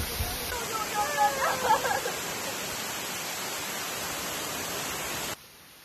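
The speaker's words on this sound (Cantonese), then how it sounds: "主瀑係一個巨型瀑布，有成30米高，非常壯觀㗎" The loud, steady roar of a large waterfall about 30 metres high at Ng Tung Chai, Hong Kong, a constant rushing wash with faint voices early on, stopping abruptly near the end.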